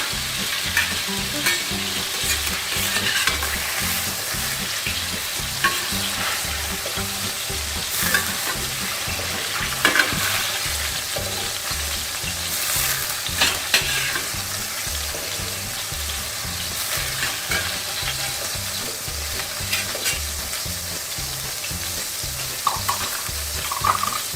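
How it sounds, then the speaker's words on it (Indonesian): Chicken pieces fry in hot oil for Balinese-spiced ayam rendang, a dense continuous sizzle and crackle lasting throughout with occasional stirring clatter, close and fairly loud, no talking. "Ini ayamnya cukup digoreng sekitar kurang lebih 3-5 menit saja teman-teman"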